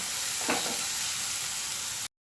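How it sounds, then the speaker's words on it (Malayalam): Onions sautéing in a pan for an egg fry, a steady broadband sizzle throughout with a soft scrape of stirring near the start, close and continuous, no voices. "നന്നായിട്ടൊന്ന് മിക്സ് ചെയ്ത് കൊടുക്കുക ഇതൊന്ന് നന്നായി ഒന്ന് വഴന്ന് വരുന്നത് വരെ നമുക്കൊന്ന് വെയിറ്റ് ചെയ്യാം"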